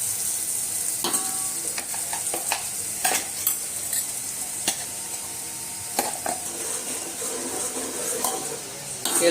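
Black masala roasting in a pan over a low flame for country-style mutton, steady sizzle broken by frequent spatula scrapes and clicks as it is stirred, close and alone.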